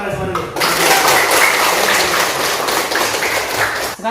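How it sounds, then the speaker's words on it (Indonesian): A class of students in an Indonesian civics lesson claps together after a brief opening sound. The fast, dense applause is loud and close and runs steadily to the end. "Tepuk tangan untuk kalian semua dulu."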